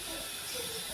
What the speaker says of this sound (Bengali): আগে ভেজে নিব।